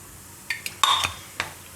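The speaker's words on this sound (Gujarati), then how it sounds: "આ બધું આપણે મિક્સ કરી લેવું" A spoon clinks and scrapes against a bowl a few times in quick, uneven strokes, mixing ragi flour dhokla batter, close by and with no talking.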